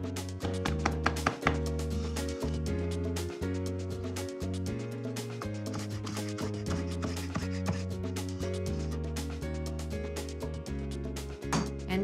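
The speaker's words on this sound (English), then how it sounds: "I chop my olives" A knife chops pitted olives on a board in a quick, dense run of sharp knocks close by, sounding over a sustained tonal background with no talking.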